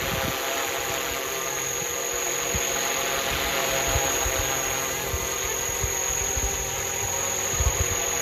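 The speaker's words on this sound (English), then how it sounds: "Listen to the helicopter." A FlishRC AS350 450-class RC helicopter runs close by with a steady, high electric whine and rotor buzz that holds an even level throughout.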